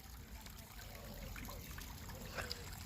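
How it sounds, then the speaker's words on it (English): Water trickles down a small waterfall beside a lake, a steady close-up splashing wash that runs without a break under faint background noise. "it's a waterfall going all the way to here."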